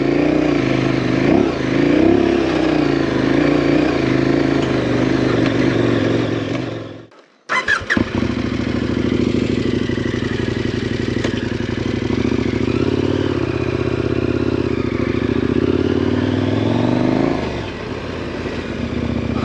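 A KTM 1090 Adventure motorcycle ridden off-road, its engine droning loud and close, a sharp clattering burst midway as it skids, then a sustained revving pull that fades near the end.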